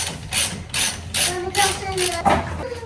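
A ratchet clicks in quick, even strokes while tightening a brake caliper bolt on a 2017 GMC Yukon, close and crisp, five or six pulls with brief pauses and a faint voice underneath.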